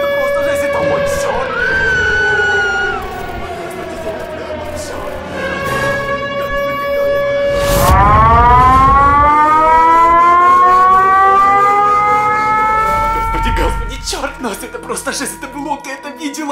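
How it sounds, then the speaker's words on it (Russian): A long wailing siren from Siren Head in a video game, rising and falling in pitch, loud and sustained, with talking heard over it. "Сирена становится все громче."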